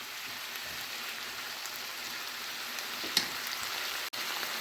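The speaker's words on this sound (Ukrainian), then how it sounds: "Поки смажиться м'ясо з цибулею" Steady, dense sizzle of meat and onions frying in a pan, a continuous crackling hiss with a brief tap partway through and no voices.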